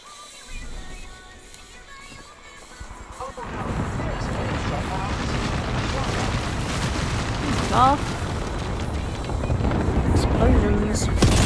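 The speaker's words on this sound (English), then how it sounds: "Explosions." Deep rumbling video-game explosions and blasts in Apex Legends build over several seconds, growing louder toward the end, with a voice speaking underneath.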